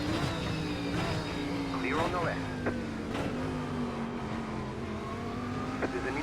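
A GT3 race car engine in the iRacing sim at Summit Point drones steadily throughout, with a rising whine as another car passes nearby, while a radio voice talks over it.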